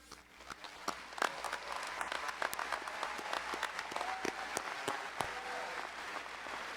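Applause from a crowd at a high school graduation ceremony, a dense patter of clapping hands that builds quickly and continues steadily, moderately loud.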